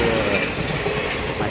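Train passing nearby, a loud continuous rumble and rolling wheel noise with faint squealing, filling the short stretch without pause.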